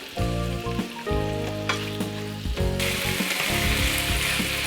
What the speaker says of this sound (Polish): Dolewam jeszcze odrobinę oleju i będę podsmażał mięso.